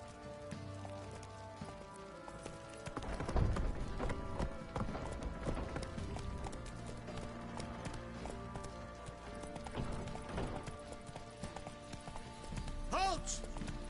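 Hooves of Roach the horse clip-clop at a steady walk in The Witcher game, set against a rain-like hiss and game ambience, with speech over it.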